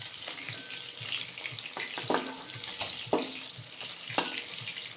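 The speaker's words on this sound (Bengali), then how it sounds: "উল্টে পাল্টে লাল লাল করে ভেজে নিচ্ছি" Rui fish pieces fry in hot oil, a close, steady crackling sizzle with sharp spatters and occasional utensil taps as the pieces are turned, no voices.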